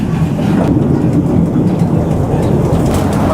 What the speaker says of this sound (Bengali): আর শুরু হয়ে গেছে আমাদের বুলেট ট্রেন রাইড